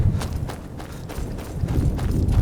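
Rhythmic hoofbeats of a horse in the video game Skyrim clip-clop at a steady walking pace over a low ambient background, fairly close and moderately loud.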